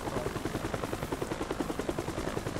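Helicopter in the military video game Squad, a steady chopping rotor beat with a dense engine roar throughout, close and fairly loud, with no talking.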